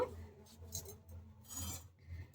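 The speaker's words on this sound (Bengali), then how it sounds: "গাজরটা একটু ভালো করে ছাড়িয়ে নেব ছাড়িয়ে মানে একটু বটির সাহায্যে এরকম ঘষে নেব" A carrot is scraped against a boti blade to peel it, two soft raspy strokes close by and quiet, with no talking.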